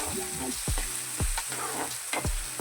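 Chopped onion and green chillies sauté in a pan until pink, a close crackling sizzle punctuated by four or five sharp scrapes of a spatula stirring at a loose, uneven rhythm, with no voices.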